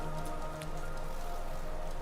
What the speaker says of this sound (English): What are you doing out in this miserable downpour?